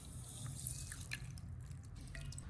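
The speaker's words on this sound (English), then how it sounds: "Use both hands to rub the beans together." Mung beans are rubbed together by hand in a bowl of water, giving faint, quiet sloshing with soft drips and small splashes, close by and without talking.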